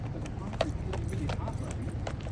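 Rapid clip-clop of a dog wearing shoes walking on pavement in Las Vegas, like small hooves, steady rhythm under faint background noise and a low hum.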